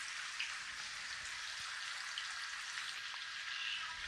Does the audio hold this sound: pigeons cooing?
no